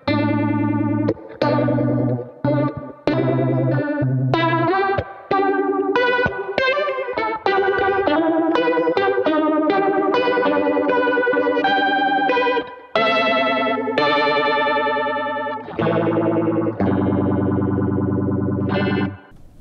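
Electric guitar plays chords and single notes through an MXR Phase 90 phaser pedal's swirling, sweeping modulation, loud and continuous with short pauses between phrases.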